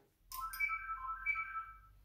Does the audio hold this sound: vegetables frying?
no